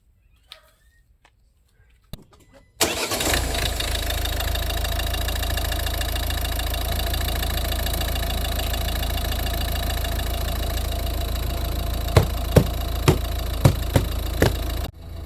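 A Volvo V50 car engine cranks and catches, then settles into a steady, close idle that hums on for over ten seconds, with a few faint clicks near the end and no speech.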